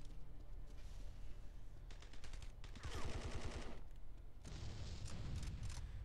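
Automatic gunfire in the video game Fugitive Hunter War on Terror crackles in several rapid bursts, loud and close, broken by short pauses with a low rumble under them, with no speech.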